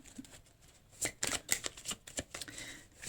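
Tarot cards are shuffled and drawn with a quick series of soft riffling flutters and light slaps, close and quiet, with no talking.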